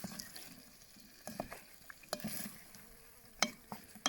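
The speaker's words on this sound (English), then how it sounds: "Right, give that a bit of a stir." Stew being stirred in a cast-iron camp oven outdoors produces faint, scattered scraping and soft knocks of a utensil, with quiet intermittent clinks and no talking.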